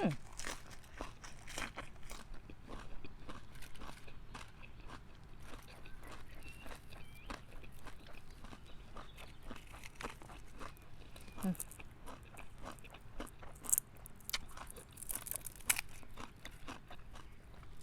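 Crisp lettuce leaves bitten and chewed close up, giving steady crunchy, crinkly bursts through the whole stretch, moderately loud against a quiet background with no talk.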